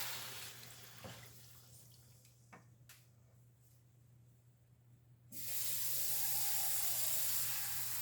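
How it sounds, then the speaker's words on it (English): Water poured into a cooking pan of sauteed milkfish in bean curd, a steady broadband hiss that starts abruptly partway through and continues loud to the end after a quiet lead-in of faint clinks. "I am adding about 4 cups of water."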